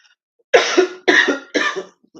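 Three harsh coughs in quick succession, close and loud, separated by brief pauses in an otherwise quiet room.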